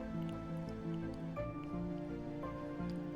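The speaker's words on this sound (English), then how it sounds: "This is going to simmer for about 2 hours." Beef, vegetables and water simmer in a brazier, giving a steady, soft bubbling with small drips and pops over a constant low kitchen hum.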